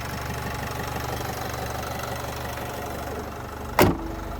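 A 2013 Renault Trafic passenger van with a 2.0-litre 115 hp engine idles smoothly and steadily at close range, ending with a brief sharp knock or click.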